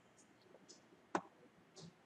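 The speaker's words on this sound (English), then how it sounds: "Okay, press enter." One sharp, quiet click of an enter key on a computer keyboard, heard close, surrounded by a few fainter soft ticks and near silence.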